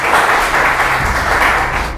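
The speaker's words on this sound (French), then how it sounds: "on applaudit." A studio audience applauds on a French television game show, a loud, thick, continuous burst of clapping close up that carries through the whole moment.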